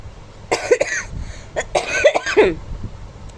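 A person coughs several times in short bursts, close and fairly loud, with throat-clearing rasps between them.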